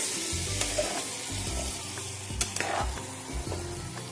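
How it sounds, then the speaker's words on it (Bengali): Young jackfruit and potato curry is stirred in a hot pan with repeated scraping strokes over a steady, close sizzle. "আবারও ভালো করে একটু নাড়িয়ে দেবো।"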